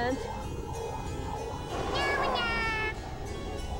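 Cartoonish cat meow from the Klonoa 2: Lunatea's Veil video game, a single rising-and-falling call heard clearly over busy game music and effects.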